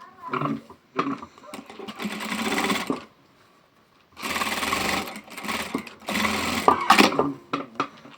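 Sewing machine fitted with a one-sided zipper foot stitching fabric in three sustained bursts separated by short pauses, loud and close, with brief handling noises between runs.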